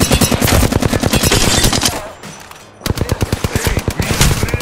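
Rapid automatic gunfire in the video game Apex Legends, loud fast bursts that pause briefly for about a second, then resume with the same rhythm.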